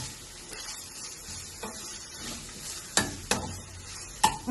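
Cardamom, cloves and coriander leaves wilting in a hot pan for Afghani kheema, with a steady soft sizzle and a few sharp scrapes of stirring against the pan.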